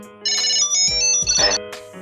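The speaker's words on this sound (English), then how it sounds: "now you'll hear the tone from the tile" A Tile Bluetooth tracker plays its finder tone, a bright, loud, repeating ringtone-like melody of high chiming notes with no talking.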